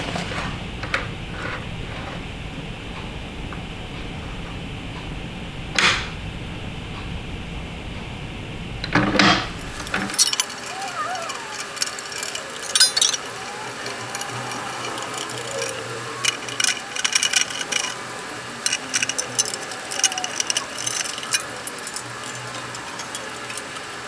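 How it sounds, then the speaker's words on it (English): A lever is pulled on a restored 100-year-old safe, sending its locking bolts through: a few sharp mechanical clicks, a heavier metallic clunk, then a steady ratcheting rattle of the moving mechanism, close and alone. "when I pull the lever down, the bolts will come through"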